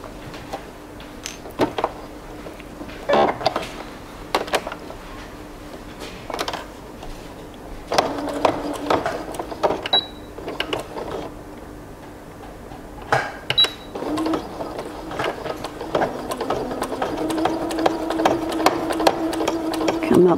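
A sewing machine stitching the pocket of beginner drawstring pants, heard in short mechanical bursts with pauses between them and a steady low hum underneath.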